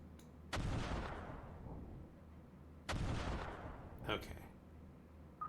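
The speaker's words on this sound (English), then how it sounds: "I'm just going to launch a massive missile attack from my destroyers." Missile launches from destroyers in the naval strategy game Command: Modern Operations: two heavy booming blasts, each trailing off in a long rumbling roar, with a sharper crack near the end, loud and close.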